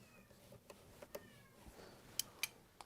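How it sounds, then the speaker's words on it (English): A cat meows insistently in the distance, a few short cries over faint background noise in a garage where a Chrysler Pentastar 3.6L engine is being worked on, with sharp ticking clicks near the end. "She's over there just meowing like mad."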